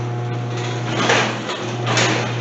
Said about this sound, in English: it encounters the board and goes all the way back up